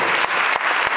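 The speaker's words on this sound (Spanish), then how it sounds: "otro fuerte aplauso para vosotros, los padres" Audience applause at the closing ceremony of the Cortegana music school: a loud, dense burst of clapping from a crowd, continuous through the short moment.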